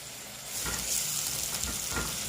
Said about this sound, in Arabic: ابدا احط البصل بتاعي، بصلايه كبيره مفرومه